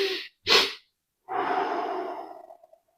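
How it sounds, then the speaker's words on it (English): One person breathes in twice, sharply and briefly through the nose, then after a pause lets out a long, slow, airy exhale through the mouth that fades away. The breathing is close and quiet. "It's a 2 sharp inhales through the nose, followed by a long, slow exhale through the mouth."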